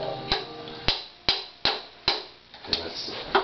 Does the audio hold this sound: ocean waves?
no